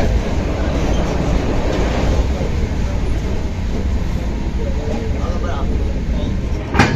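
A passenger train rolls into Jammu Tawi railway station, a steady loud rumble of rail wheels and carriages with clattering and a brief squeal, while people talk nearby over the noise.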